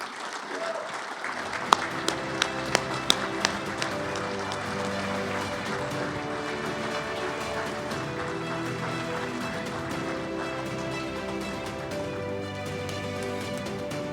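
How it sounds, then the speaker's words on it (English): Audience applause at a St. Louis Sports Hall of Fame winter enshrinement dinner welcoming inductee John Simmons, a steady, dense wash of clapping that runs throughout, with a few sharper claps standing out early on. "Let's welcome him with our applause to the St."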